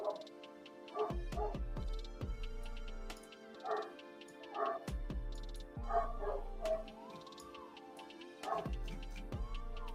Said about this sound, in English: I don't know if you guys can hear the dog barking down there.